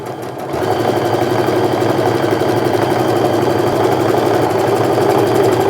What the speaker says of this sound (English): So first let's start and just sew these top edges together.